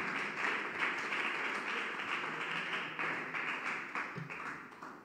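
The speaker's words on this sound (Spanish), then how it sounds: "Dele un aplauso al Rey de Gloria con todo su corazón." A church congregation applauds together during a Spanish-language evangelical sermon, a steady dense wash of clapping hands sustained throughout, fairly distant and reverberant, with no clear voice on top.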